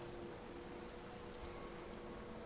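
Steady hiss of rain falling in the video game Watch Dogs, a soft, even wash of drops with no pauses and no voices over it.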